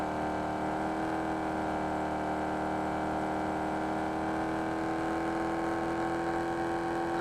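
A vehicle driving in the battle royale game BGIS, with a steady, continuous engine drone and whir that holds an even pitch and loudness throughout, no voices.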